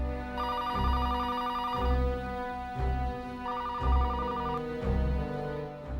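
A telephone rings repeatedly in a steady pattern, each electronic ring lasting about a second with short gaps, over a low background hum.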